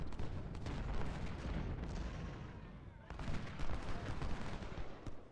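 Dense rolling gunfire and heavy booms from an American Civil War battle scene in a video game, sustained and loud throughout with volleys layered over a rumbling background.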